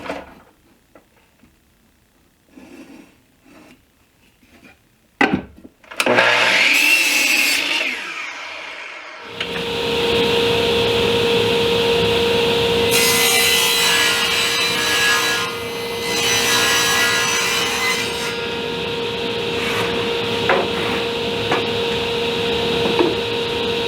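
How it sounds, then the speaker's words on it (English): Power saw cutting 45-degree miter corners in plywood for a storage bench: after quiet handling clunks, the motor spins up into a loud, sustained whining cut with shifting pitch that runs steadily for many seconds. "I'm going to start off by just mitering my corners at a 45-degree angle"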